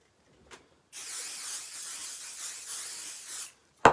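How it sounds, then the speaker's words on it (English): Adhesive spray misted onto quilting wadding for a hot water bottle cover: a small click, then a continuous aerosol hiss of about two and a half seconds at close range, ending with a sharp tap. "So we're going to spray our wadding."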